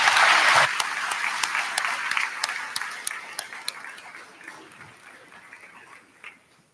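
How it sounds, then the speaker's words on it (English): Applause from a university commencement audience starts as a dense burst, then thins quickly into scattered individual claps that fade away over several seconds, with a faint voice beneath. "please, another round of applause for Dr."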